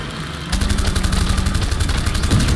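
Rapid gunfire from the video game Make Way starts abruptly after a brief pause and rattles on loud and close in a fast, even burst.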